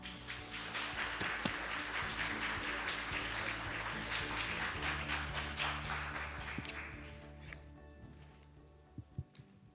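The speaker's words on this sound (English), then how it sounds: "Please join me in welcoming him with a big round of applause." Applause from a conference audience welcoming a government vice minister to the stage, sustained clapping under a low hum that fades out near the end, followed by a few isolated taps and handling bumps.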